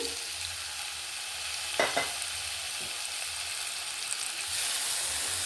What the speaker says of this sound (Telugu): ఇప్పుడు ఈ నెయ్యిలో మనం పైనాపిల్ ముక్కలు ఫ్రై చేసుకోవాలి.